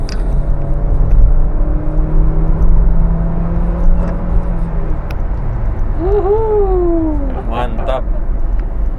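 A car engine revs hard during an automatic transmission kickdown, the pitch climbing then dropping with gear changes, heard up close and loud over a low rumble while people talk.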